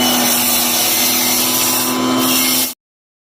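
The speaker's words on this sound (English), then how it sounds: "Cut a piece of 1 1/4 inch pipe about 4 inches longer than the length of 6 D-cell" A 1 1/4 inch PVC pipe being cut with a power saw, a loud, steady grinding buzz that runs without a break for nearly three seconds and then stops abruptly, leaving silence.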